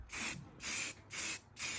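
Four short hissing bursts from a spray can painting a BMW E36 328i subframe, evenly spaced with brief pauses between them, close and fairly quiet.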